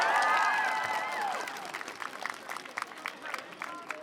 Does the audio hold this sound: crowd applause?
yes